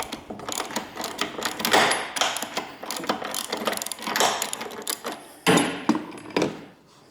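A ratchet clicks in rapid bursts while loosening a fastener on the front strut of a 2010–2011 Saab 9-5 Aero, close and loud, with short pauses between runs of ratcheting.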